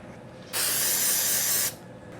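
Spray glue hisses onto an art piece in a single steady burst lasting just over a second, close and fairly loud against a quiet background.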